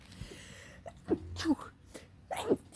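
A woman's sneeze breaks in among short gasping breaths, close and fairly loud, with brief vocal sounds around it.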